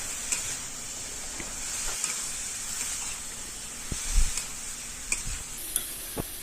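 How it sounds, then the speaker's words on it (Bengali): Salt and turmeric are stirred into ash gourd pieces in a hot pan: a soft steady sizzle with scattered scraping and tapping of the spoon, faint and close, with no talking. "এবার নুন হলুদটা ভালো করে চাল কুমড়োর সাথে মিশিয়ে নেব।"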